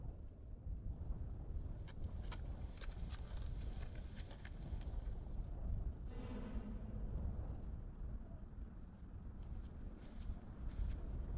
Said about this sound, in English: The wind grows louder.